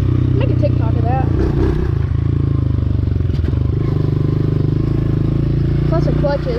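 A dirt bike engine drones steadily and loudly while riding, with a constant buzzing rumble and faint rattling, and voices are briefly audible underneath.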